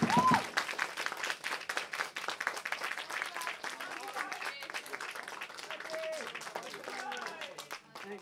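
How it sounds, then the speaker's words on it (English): A small crowd at a band's gig in a record shop applauds warmly, sustained clapping with a few cheers and whistles heard close by, tapering off toward the end. "round of applause."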